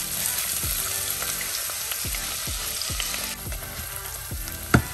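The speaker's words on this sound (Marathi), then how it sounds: "सो इथे मी ओनियन टाकते आता." Onions frying in a pan with cumin, a steady close sizzle with soft stirring scrapes, loud and continuous with no talking.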